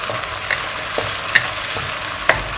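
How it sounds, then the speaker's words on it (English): Chinese cooking wine poured along the side of a hot pan holding egg tofu, broccoli and shiitake mushrooms, crackling in a steady sizzle with a few sharp spatula clicks against the pan; no voices. "So now we'll add in 1 tablespoon of Chinese cooking wine. Just run it by the side of the pan."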